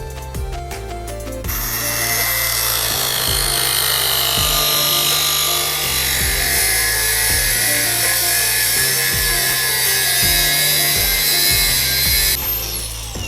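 A steel bracket for a motorcycle steering damper on a Honda Wave125 being cut with a power tool, a loud steady grinding whine with repeated rhythmic strokes underneath, close and continuous.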